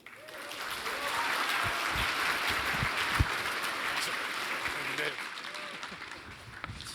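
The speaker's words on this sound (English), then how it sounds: "can we give a big round of applause once again for Builderman himself in the house?" A large conference audience at a Roblox developer keynote applauds steadily, a dense wash of clapping that rises, holds for several seconds and fades slightly near the end.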